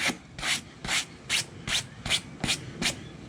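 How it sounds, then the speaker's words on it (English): Light-bristle detailing brush scrubbing car fabric upholstery to loosen the fibers, eight evenly spaced rasping strokes, close and brisk, with no talking. "taking a light bristle Chemical Guys brush, and let's just loosen up those fibers"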